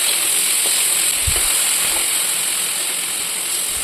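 Onions fry in a hot pan with a steady, close sizzling hiss and a couple of soft low bumps.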